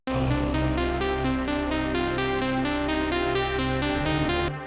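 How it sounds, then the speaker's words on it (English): A cinematic synth string preset layered over sustained pads plays a steady, rhythmically pulsing chord pattern for several seconds, moderately quiet and alone, cutting off abruptly at the end. "If you put the pads under it, it turns into something like this."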